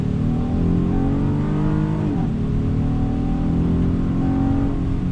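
A 2019 Honda Odyssey Elite minivan with its 280-horsepower V6 accelerating hard, the engine note climbing steadily in pitch with a brief dip partway through, loud and continuous from inside the cabin.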